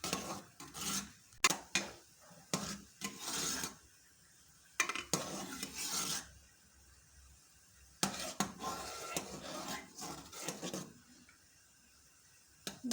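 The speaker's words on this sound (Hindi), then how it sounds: "और फिर इसमें लड्डू डालेंगे।" Soft clinks and scrapes of a spoon against a pan come in irregular bursts with quiet gaps as milk-powder balls for rasmalai are added to a pan of simmering milk in a home kitchen. There is no talking.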